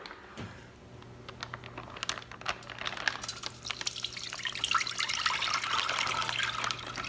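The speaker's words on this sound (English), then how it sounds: "dump this bag into that and let most of that liquid drain off of there" Beef jerky marinade is dumped from a bag and drains through a strainer basket into a measuring bowl: a spattering, dripping trickle that builds into a steady close rush of liquid.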